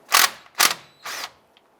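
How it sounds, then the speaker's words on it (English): 15mm socket wrench working a bolt loose on a 2002-2008 Dodge Ram 1500, three short, close ratcheting bursts in quick succession, the last one a little softer. "Using a 15mm socket, go ahead and remove the main bolt here."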